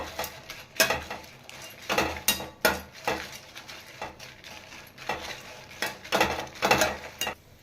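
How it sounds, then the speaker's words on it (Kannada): Spices for vangibath powder fry in oil in a pan, giving a steady close crackle and sizzle broken by repeated stirring scrapes and clinks of a utensil against the metal, with no voices. "ಇದು ಸಹ ಎಣ್ಣೆಯಲ್ಲಿ ಫ್ರೈ ಮಾಡ್ಕೊತಾ ಇದ್ದೀನಿ"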